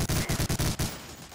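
Rapid bursts of gunfire in the Medal of Honor Allied Assault shooter, about seven sharp loud shots in quick rhythm, then a fading echo.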